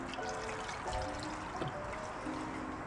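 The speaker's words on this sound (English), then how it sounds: "So I'm going to add a little bit more water here, just enough so that we cover this." Water poured into a pot of iguana stew with coconut milk, a soft close trickle and pour running steadily for a few seconds with faint kitchen background.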